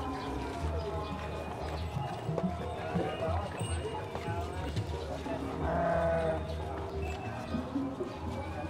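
Goats at an outdoor livestock gathering, bleating briefly amid a busy mix of animal noise, hoof steps and background chatter from a crowd of people talking throughout.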